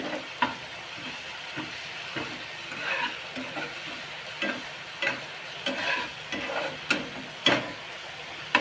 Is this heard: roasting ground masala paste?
yes